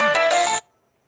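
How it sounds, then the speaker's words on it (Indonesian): Phone ringtone for an incoming call, a short loud electronic melody of bright tones lasting about half a second before cutting off abruptly into silence. "Waduh, ada yang nelpon."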